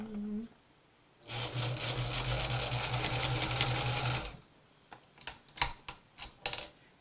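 A sewing machine with a roller foot stitches quilt seams in a rapid, steady mechanical whir lasting about three seconds, close by, followed by clicks and light handling taps.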